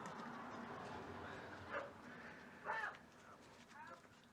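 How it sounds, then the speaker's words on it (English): A neighbor's dogs bark a few times in the distance, faint yips rising above outdoor background noise beside a seized VW Beetle engine. "There's my neighbor's dogs barking."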